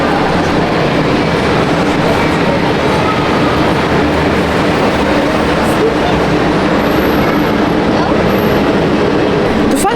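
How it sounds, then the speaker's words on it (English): Disney World monorail running through a resort building, a steady loud rumble and clatter of the train filling the whole stretch, with faint background voices mixed in. "The monorail goes through the building is always super cool though."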